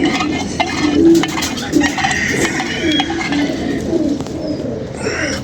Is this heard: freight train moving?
no